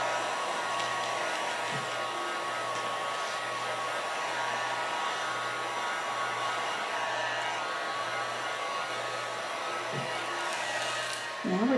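A heat gun blows continuously while shrink-wrapping soap, giving a steady airy whoosh with a low hum underneath and a few faint handling clicks.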